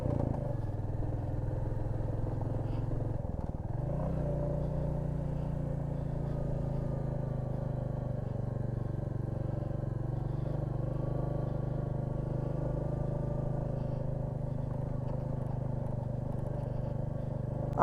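Motorcycle climbing slowly uphill in first gear on a road toward Kalimpong, a steady low engine drone heard from on board for the whole stretch, with a brief dip in revs early on and no talking.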